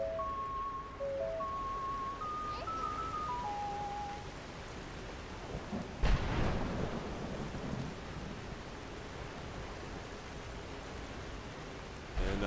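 Thunderstorm summoned by playing the Song of Storms ocarina melody in a Skyrim mod, steady rain hiss throughout with a short flute-like tune at the start and a single sharp thunderclap near the middle, then continuing rain.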